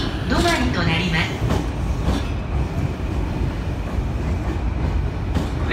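A Chuo Rapid train rolls into JR Shinjuku station with a loud, continuous rumble and rattle of wheels, a short squeal near the start, while people talk faintly in the background.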